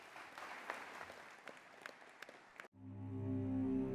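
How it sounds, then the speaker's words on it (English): Conference audience applause for the keynote speaker, the CEO of Flexport, with moderate scattered clapping that cuts off abruptly as stage music swells in. "I would like you to give a big round of applause as we call on Ryan Petersen to come and"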